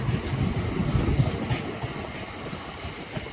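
A British Rail Class 350 electric multiple unit passes on the Chase Line near Walsall, a loud, close rush of wheels and rumble that stays steady, then eases slightly as the train moves away, with no talk.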